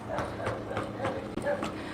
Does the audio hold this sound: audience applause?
no